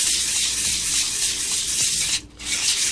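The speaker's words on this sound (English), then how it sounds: "I think I'm gonna start at like a 600 or 800 grit sandpaper and then work my way up to 1500" Fine-grit sandpaper, starting around 600 to 800 grit, rubs steadily over a 3D printed sword prop. The close, continuous hissing scrape carries no speech and drops out briefly just past the two-second mark before resuming.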